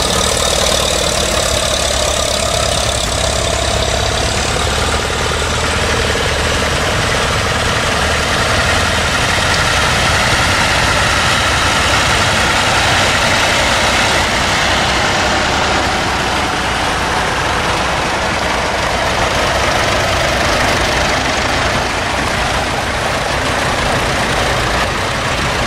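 Tractor engines rumble steadily on a vintage tractor run, a loud continuous mix of idling and revving diesel motors close by, with no talk.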